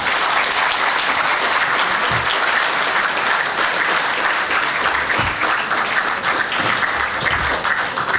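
Sustained audience applause at an interactive session with Union Minister Dr. S. Jaishankar in India, a dense steady crowd of clapping hands filling the room for several seconds.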